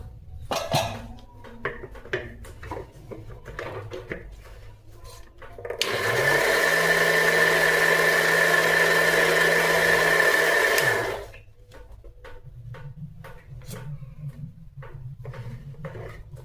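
A mixer grinder jar churning cream into butter whirs loudly and steadily for about five seconds in the middle, with quieter kitchen clatter and handling before and after.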